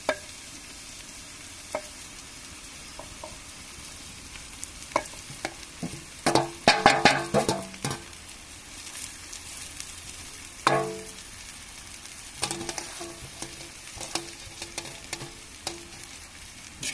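Drumstick leaves are tossed into golden fried onions in hot oil, giving a burst of crackling sizzle and spoon scrapes, then intermittent stirring clatter over a faint frying hiss.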